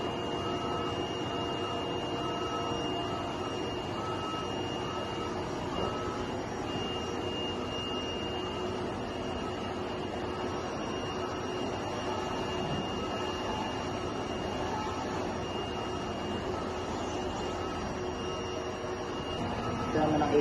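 A DTF printer runs a nozzle check with a steady mechanical whir and a constant high tone, continuous and moderately loud throughout, with faint voices in the background.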